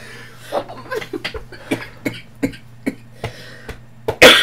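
Repeated coughing, a dozen or so short harsh bursts in an uneven rhythm, close by, ending in a louder burst.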